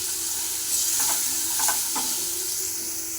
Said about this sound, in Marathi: त्यानंतर अद्रक लसूण याच्यामध्ये परतून घ्यायचं आहे, वास जाऊपर्यंत.